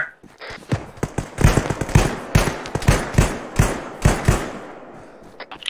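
Heavy gunfire in the military shooter Arma 3 during a squad assault on a perimeter wall: repeated loud bursts and single shots crack in an irregular rhythm, close and dense, with no talk.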